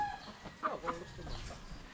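Chickens and roosters at a gamefowl farm, a couple of short clucks and calls over a low background, fairly faint and brief.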